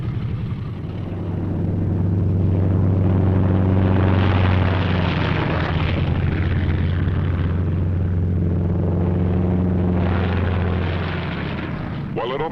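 Pairs of P-38 fighter aircraft taking off at a military airfield, a loud sustained propeller-engine roar that swells and fades twice, with a narrator speaking over it.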